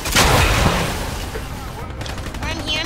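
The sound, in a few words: gunfire in the video game Fortnite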